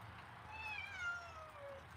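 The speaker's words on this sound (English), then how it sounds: "they're mad at the black cat that's outside" Indoor house cats meow at a black cat outside, producing a faint, drawn-out, wavering yowl that rises and falls over about two seconds against a quiet room background.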